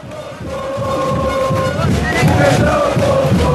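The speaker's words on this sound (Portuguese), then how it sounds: "tá aí a torcida" A large crowd of football fans chants and roars together in a loud, sustained swell, with rhythmic voices rising over a dense, echoing background.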